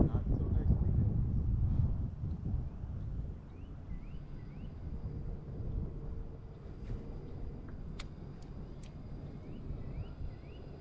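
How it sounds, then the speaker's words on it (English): Strong wind buffets the microphone out on the water during a crappie fishing trip in a spring cold front, heaviest at the start and then a steady blustery rush with faint chirps over it. "I gotta get off this wind, bro."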